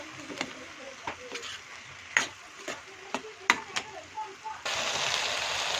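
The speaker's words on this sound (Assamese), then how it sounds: "এইখিনি এতিয়া ভালকৈ ভাজিম" Vegetables fry and get stirred in a pan on a cloudy day, giving a soft sizzle with repeated sharp scrapes and clicks of a spatula against the pan, then a steadier hiss near the end.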